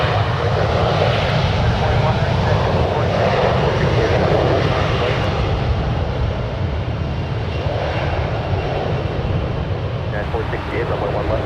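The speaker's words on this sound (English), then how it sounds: "On one right, we have United Express Flight 5644 departing to Boise" United Express airliner taking off at San Francisco International Airport, a loud continuous engine roar filling the whole stretch at moderate distance, with radio chatter faintly underneath.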